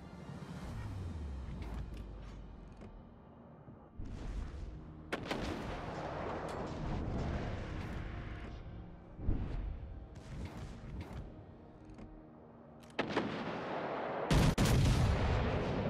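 Warship guns firing in the naval video game World of Warships: Legends, heavy booming salvos with rolling rumble and whooshing shells, several distinct blasts spread across the clip over a low background hum.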